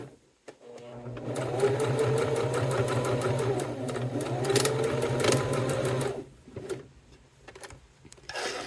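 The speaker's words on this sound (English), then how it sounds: "So go ahead and do a back stitch." Sewing machine back stitching on a cork wallet, a close motor whir with rapid needle ticking that runs steadily for about five seconds, then stops, followed by a few handling clicks and taps.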